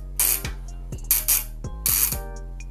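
Bicycle freehub driver ratchet modified to be louder, clicking in a dense, loud buzz that comes in repeated bursts as the wheel freewheels, with no voices.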